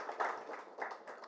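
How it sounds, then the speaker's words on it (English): Audience at a friendship association inauguration claps for a Consul General, a short, faint stretch of scattered applause with a few louder claps, heard from a distance in a hall. "I think a round of applause for the Consul"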